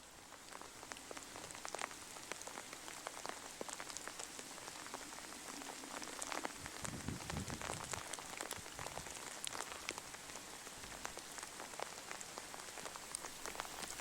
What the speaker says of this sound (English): Rain stops play,